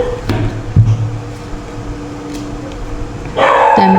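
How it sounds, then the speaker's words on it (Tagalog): A pet dog barks indoors, a couple of sharp barks near the start, then goes quiet over a steady appliance-like hum before a louder burst of noise near the end. "ingay ng aso ko"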